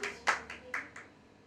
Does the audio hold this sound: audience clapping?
yes